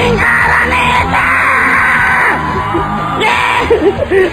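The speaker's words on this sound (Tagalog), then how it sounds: "Ang ganda-ganda ng sigaw mo." A large arena crowd at the grand finals of a televised talent show shouts and cheers at full volume, with sustained yells and whoops rising and falling in loud waves.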